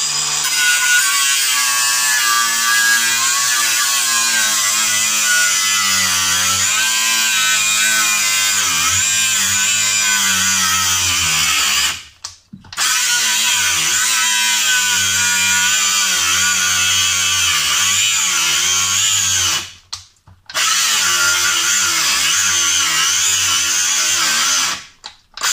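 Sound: angle grinder cutting bolt off school bus seat

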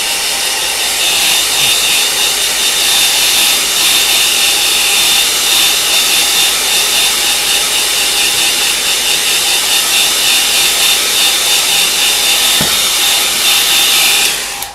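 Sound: hair dryer drying paper

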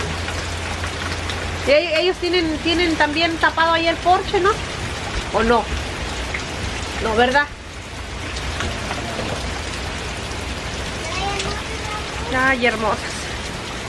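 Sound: rain falling

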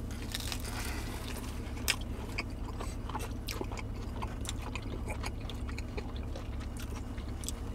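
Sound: crunch of biting into a clam tomato pie pizza

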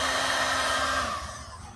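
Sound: hair dryer running

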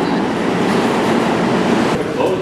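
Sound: train arriving at a station

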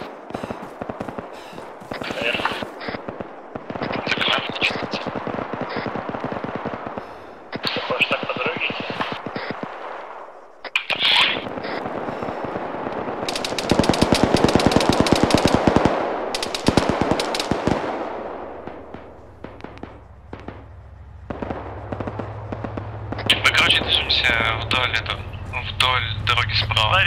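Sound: cannon fire in a video game

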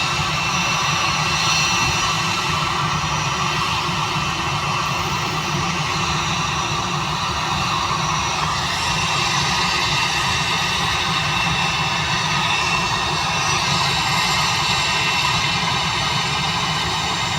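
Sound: passenger airplane jet engine during takeoff

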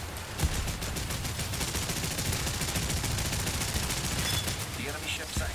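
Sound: machine gun fire from ships in War Thunder video game

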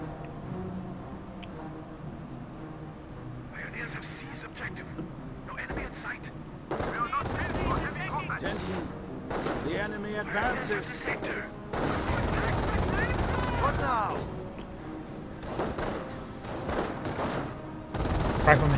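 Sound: MG42 machine gun firing in video game Company of Heroes

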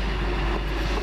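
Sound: Stevenage passenger train passing at Alexandra Palace station

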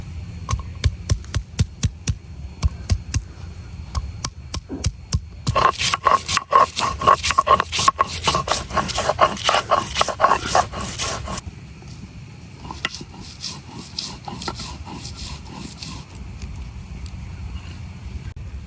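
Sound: grinding ginger and garlic spice paste on a stone

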